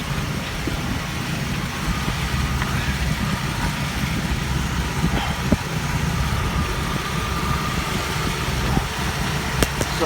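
An air conditioning compressor runs a few feet away, giving a steady, loud mechanical hum and engine-like drone with faint clicks, alone without talk.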